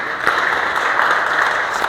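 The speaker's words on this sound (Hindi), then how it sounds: "इनके लिए जोरदार तालियाँ" An audience at a workplace safety day program applauds steadily for an honored guest, a dense even patter of many hands filling two seconds at close range with no speech over it.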